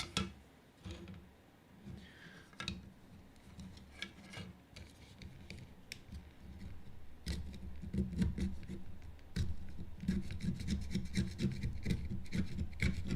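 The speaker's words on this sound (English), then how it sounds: "We're just scraping it now." Material is scraped off a car interior during a cut-up for a low stance, a quiet, close rasping and rubbing in uneven repeated strokes that grow denser and more steady toward the end.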